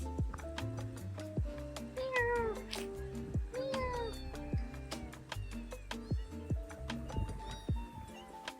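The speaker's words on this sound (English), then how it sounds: "Then it was back to our own cats." Cats meow several times in pitched, rising-and-falling calls over a busy background of music and clicking, the meows standing out clearly at a moderate distance.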